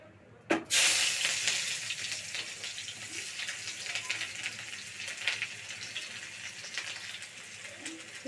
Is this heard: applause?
no